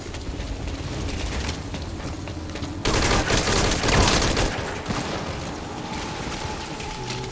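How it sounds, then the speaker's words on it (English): Bursts of gunfire in the video game Metal Gear Solid V crackle over a loud, busy mix, swelling into a denser, louder volley midway before easing back. "Gunfire. No fix on the position."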